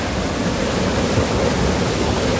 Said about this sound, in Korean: 그냥 계곡이 폭포수가 돼버렸어요.